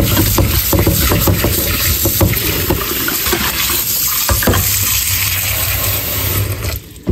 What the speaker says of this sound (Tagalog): So, lagyan natin po ang tubig niya.